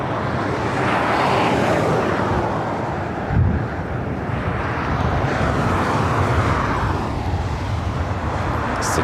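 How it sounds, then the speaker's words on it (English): A Turkish Airlines Boeing 777-300ER lands at LAX, a loud, steady jet roar with heavy wind rumble across the whole stretch and a brief thump near the middle. "It's the Turkish Airlines 777-300ER, Flight 9, coming in from Istanbul."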